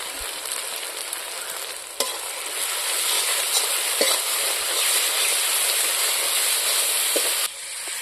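Ground spice paste for a pigeon curry sizzles and fries steadily in a hot pan, a loud, continuous crackle with a couple of sharp stirring clicks and no talking.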